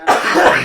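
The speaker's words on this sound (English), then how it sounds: "I just wish I wasn't coughing right through it." A single harsh cough bursts out close to the microphone, loud and brief, heard alone with no talking around it.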